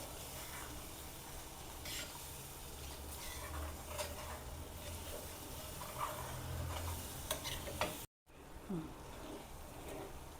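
Jhunka being sautéed and stirred in a pan, a soft steady sizzle with scraping spoon strokes throughout, close and fairly quiet, briefly cutting out near the end before resuming.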